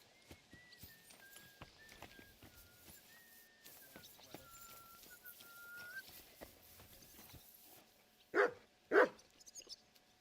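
A dog in the medieval game Kingdom Come: Deliverance II gives two sharp, loud barks near the end, following a quieter stretch of hoof clops and a faint whining tone.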